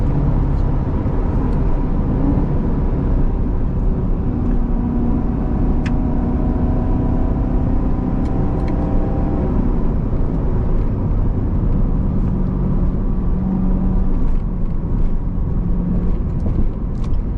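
Steady engine drone and road rumble from a 700 horsepower Corvette track car cruising, heard close inside the cabin with slight pitch changes and occasional small clicks, no voices.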